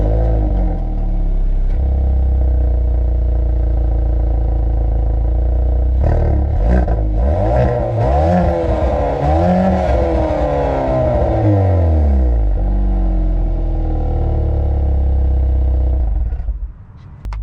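A Hyundai Veloster N's 2-liter turbocharged four-cylinder with an 8-speed dual-clutch automatic drones loudly from inside the cabin, then revs hard, climbing in pitch through several quick upshifts before settling into a steady cruise and easing off.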